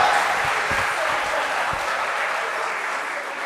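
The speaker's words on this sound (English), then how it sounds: "Give him a round of applause." Applause from an audience at an outdoor political public meeting, a steady wash of many hands clapping throughout at moderate loudness, fairly distant, with no voices standing out.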